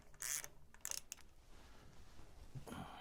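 Screws on the turn signal mount of a 2022 Indian Chief motorcycle being tightened, with close, quick ratcheting clicks in short bursts separated by pauses and faint handling noise.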